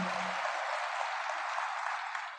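Sustained audience applause at a Brahma Kumaris golden jubilee celebration in Odisha: a steady, even wash of many hands clapping at a moderate distance, holding throughout and tapering slightly at the end, with no talking.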